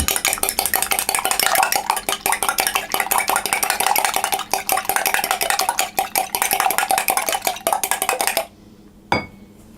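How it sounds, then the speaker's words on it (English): Eggs being mixed into almond paste for gevulde koeken in a bowl: rapid, continuous scraping and clattering of a utensil, loud and close, stopping near the end with one final knock. "We're going to mix that until we get a nice paste of the consistency we want."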